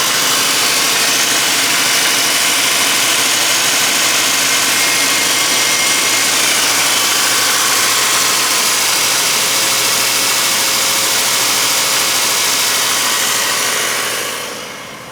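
A Geo Metro's small engine runs steadily, a continuous loud idle hum with mechanical vibration and no talk, holding even for the whole stretch before cutting off near the end.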